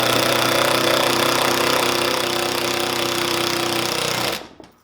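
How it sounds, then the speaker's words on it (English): A power driver runs screws into a hurricane hinge on a teardrop camper, a loud steady buzzing rattle for about four seconds that then stops abruptly. "I'm not tightening them all the way with the driver here"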